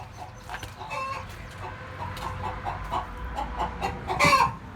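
Hens cluck softly and intermittently nearby beside a laying hen, with a louder burst of clucking near the end over a quiet background.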